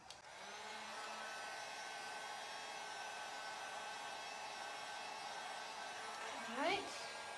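A hair dryer blows steadily and fairly close on stamped peacock artwork, a continuous airy whir that holds at an even level throughout with a brief bump near the end.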